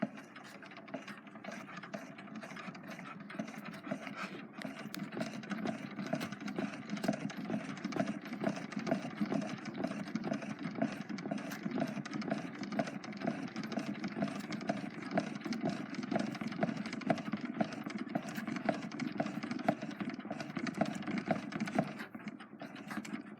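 The crank of a Standard Talking Machine phonograph is wound by hand, producing a faint, steady mechanical whir with rapid, evenly repeating clicks through the spring-winding, close up with no talking.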